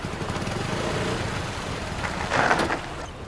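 A motorbike engine idles nearby with a steady low pulsing putter, rising briefly in level near the end.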